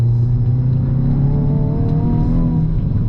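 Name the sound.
Hyundai i20 N engine throttle blip while downshifting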